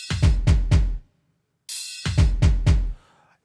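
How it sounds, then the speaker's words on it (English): Afro house drums programmed in FL Studio: a punchy kick thumps in a quick repeated pattern with hard percussion hits, stops for a moment, then a sharp bright hit brings the same pattern back, loud and close. "I still used the kick and the hard percussions, and they sound like this"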